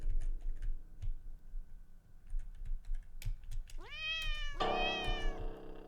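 A cat meows twice in the video game The Cat Lady, two rising, tonal cries near the end, over faint ticking and keyboard typing.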